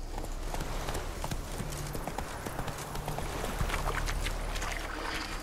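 Horse hooves clip-clop steadily in The Witcher 3 video game, a continuous close trotting rhythm over a dense ambient background, with no talking.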